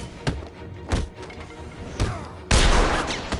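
Gunfire in the video game Batman Arkham City: a few separate sharp shots spaced about a second apart, followed by a louder, denser burst of blasts near the end.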